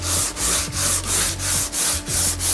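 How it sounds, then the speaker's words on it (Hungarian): Painted wood being sanded by hand with abrasive cloth, a loud close rhythmic rasp of steady back-and-forth strokes, about seven passes with short breaks between them and no talking. "Minél erősebben vagy minél durvább csiszolóvásznat használsz, annál jobban előtűnik az alsó réteg"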